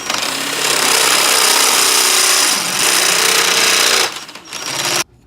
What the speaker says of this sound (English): power drill and our step drill bit